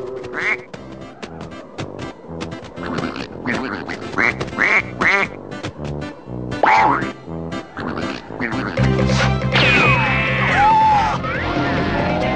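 A cartoon duck quacks loudly over and over, mixed with springy boing effects and lively animated-series music, with a voice speaking between the quacks.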